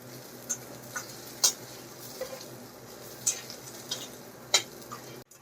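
Soybean chunks frying in a wok give a quiet, steady sizzle, punctuated by a few sharp clinks and scrapes of stirring, close and alone without talk.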